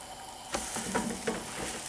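French toast sandwiches fry in butter in a pan with a steady close sizzle, with a few soft scrapes and knocks as the spatula shifts them.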